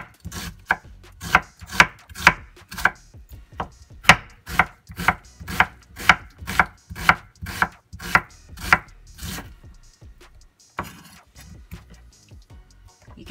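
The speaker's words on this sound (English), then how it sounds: "For this one, I'm gonna chop this onion." Knife chopping an onion on a cutting board, a close run of about twenty crisp, evenly spaced chops, then a pause and a few lighter taps and scrapes.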